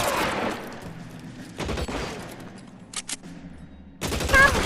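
Gunfire in the video game L.A. Noire, a few sharp shots scattered across the clip amid game noise, with a louder burst near the end.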